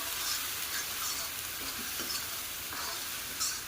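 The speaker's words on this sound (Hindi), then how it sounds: "तो सब भून लेती हूँ मैं मसाले को" Masala spices with green chili paste roasting in a pan, a soft continuous sizzle and hiss with faint stirring scrapes, fairly quiet and steady.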